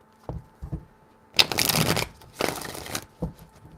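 Tarot cards shuffled in three quick bursts, two short riffles followed by longer, louder ones of steady papery flutter, close and alone with no talk.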